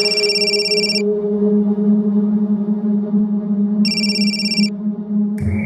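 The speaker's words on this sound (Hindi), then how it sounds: "तुम अभी अपने साड़ू अमित को फोन लगाओ" A phone rings with a bright electronic ringtone in loud repeated bursts, sounding twice with a pause between them over a steady background tone.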